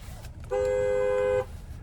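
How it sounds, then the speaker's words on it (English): A single steady car horn blast from a 2014 Buick LaCrosse, close and loud, lasting about a second over low background rumble. "Nice horn sound."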